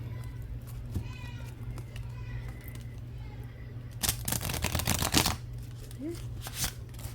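Oracle cards are shuffled in a few quick, crisp bursts of flicking and riffling, with a faint voice and a steady hum in the background.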